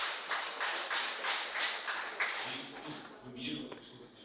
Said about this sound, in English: I never expected this round of applause